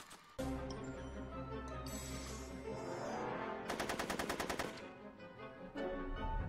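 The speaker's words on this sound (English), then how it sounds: "Are you shooting at me?" Rapid automatic gunfire in the Back to the Future video game, sustained bursts of fast repeated shots over a busy game soundtrack with music and effects, loud and close, with a denser volley near the middle.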